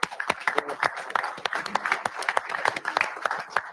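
Audience at a live safety meeting applauding a fleet manager, a loud, dense round of clapping with sharp individual claps throughout, some voices mixed in.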